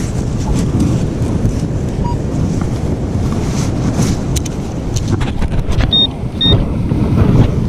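Strong wind roars across a Florida beach during hurricane conditions, a steady heavy buffeting against the microphone with surf rumbling underneath, loud and close, and a few faint high tones near the end.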